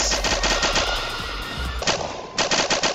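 An MG-42 machine gun fires in a Roblox game with rapid, loud automatic bursts, then pauses briefly before another short burst, with the shots sounding close and sharp.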